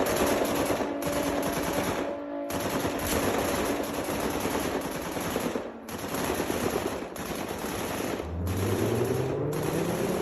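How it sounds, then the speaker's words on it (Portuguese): Several automatic weapons fire together in long, dense, loud bursts with a few brief gaps, and a low rising drone comes in near the end. "todas as armas automáticas entram em ação"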